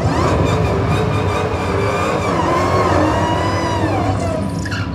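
A 2018 Dodge Demon, first-generation supercharged muscle car, with its engine whining loudly and steadily up close, a rising high-pitched tone riding over a dense rumbling roar throughout.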